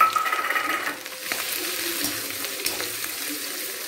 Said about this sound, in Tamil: துருவி வச்சுருக்க இஞ்சியை போட்டு நல்லா வதக்கிக்கலாங்க.